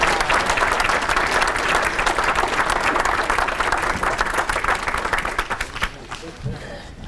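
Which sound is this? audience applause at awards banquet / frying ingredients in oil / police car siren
audience applause at awards banquet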